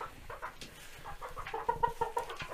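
Chickens in a coop cluck in short, soft bursts, growing into a quick run of clucks near the end, at close range and with no speech.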